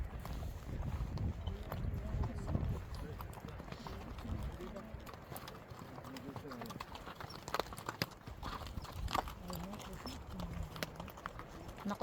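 Horse hooves clip-clopping steadily on a horseback ride in Kazakhstan, a fairly close rhythmic clatter running throughout beneath people chatting.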